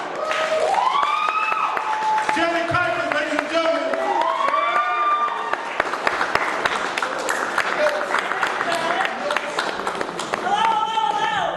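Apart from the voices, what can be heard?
audience applause and clapping for a poet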